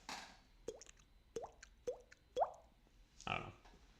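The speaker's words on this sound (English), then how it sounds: "I don't know if that was picking up the water drop sound." Water drops plopping one at a time, four or five distinct drips at a slow, uneven pace, fairly close and quiet in an otherwise still room.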